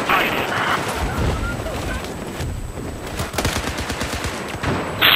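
Video game combat with rapid bursts of gunfire, including a 44 Magnum shot, crackles loudly throughout with sharp repeated reports and dense battle noise, while a person talks over it.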